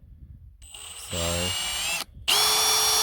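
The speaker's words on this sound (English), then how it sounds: "now to do the unthinkable and actually drill a hole in the auger" Power drill boring a hole through a seeder auger on a farm, a steady loud whine that rises, cuts out briefly, then resumes higher, with a short spoken word at the start.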